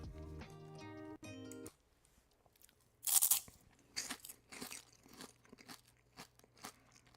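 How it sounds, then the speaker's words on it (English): Crispy okra snacks crunch between the teeth in a few sharp, close bites followed by steady chewing crackles, after a short stretch of music cuts off; no talking. "Let me turn off the music so you can hear the crunch a little bit better."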